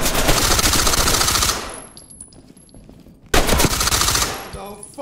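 Loud bursts of rapid automatic gunfire in the tactical shooter game Ready or Not as a suspect is shot, a long volley, a brief lull, then another sustained burst.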